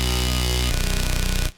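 A deep synthesized bass in a beat plays the same note an octave apart, first as a sustained droning tone, then as a fast pulsing rhythm before cutting off abruptly.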